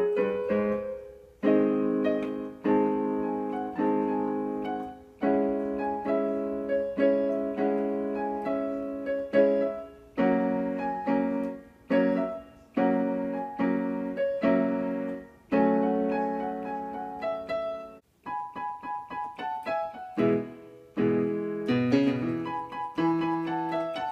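A piano works through the four-chord progression of a pop song, with repeated struck chords in a steady rhythm and no voices.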